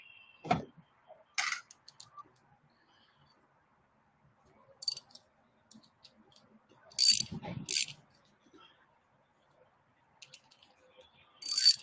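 Ratchet wrench tightening a hose clamp on a sandrail buggy, heard as short separated bursts of clicking pawl strokes with quiet gaps between, close and clear with no talking.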